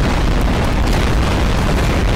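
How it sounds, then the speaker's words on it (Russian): A powerful bomb explodes in Garry's Mod, a loud, dense, unbroken roar of booming rumble filling the whole moment with no talk. "я поцеловал бомбу, и она бахнула"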